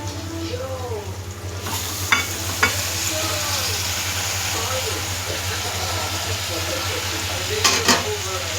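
Three kinds of chopped leafy greens cook in a curry pot, a soft continuous sizzle and hiss with a few sharp clinks of the stirring utensil, over a steady low hum and faint background voices.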